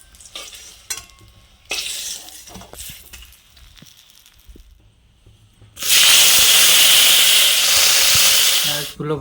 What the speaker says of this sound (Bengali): মাছগুলো ভাজা হয়ে গিয়েছে